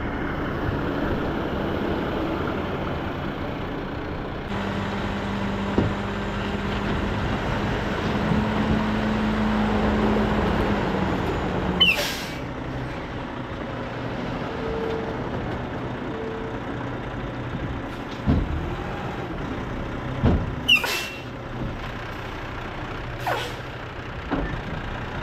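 A Kenworth T800 truck drives while hauling a load, with a steady low engine drone heard from inside the cab and several sharp hissing air brake bursts near the end.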